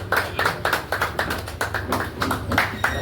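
An audience at a weekly business meeting claps to welcome a speaker, a close, brisk run of hand claps forming a fairly steady rhythm for the whole stretch.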